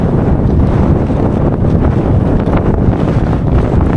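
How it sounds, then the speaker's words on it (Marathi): Strong wind buffets the microphone outdoors near a windmill in a village at dusk, a loud, continuous roaring rumble with gusty surges and no voices. "कसलं वारं बाबा, कान वाजतात नुसते"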